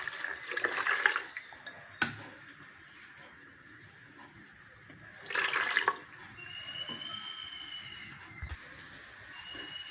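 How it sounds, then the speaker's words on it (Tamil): Water poured into a cooking pot for a drumstick-leaf and coconut-milk dish in an electric cooker, with two short splashing pours separated by quieter stretches and a faint tonal hum in between. "இப்போ தண்ணி ஊற்றிடலாம்."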